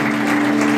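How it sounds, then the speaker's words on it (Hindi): At a wedding ceremony in Ambikapur, guests clap together in a brief, dense burst of applause over a steady background hum. "क्या हम जोरदार ताली देंगे?"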